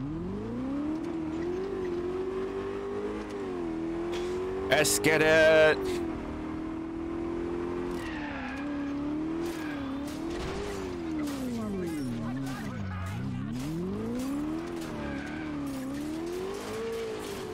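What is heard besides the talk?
car driving in the video game Crackdown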